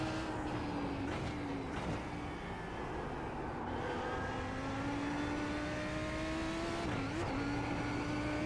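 A Lamborghini GT3 race car engine howls steadily in a racing game at Mount Panorama, holding a loud sustained tone with brief dips and rises as it shifts gears, with no talk over it.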